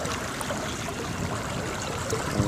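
Steady rushing spray of water over a fishing boat, a dense, even hiss with no pauses throughout.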